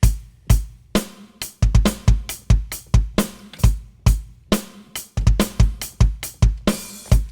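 A full drum kit groove with a displaced, late-landing snare hit, played as punchy repeated kick, snare and cymbal strokes in a syncopated pattern, loud and close with no talking.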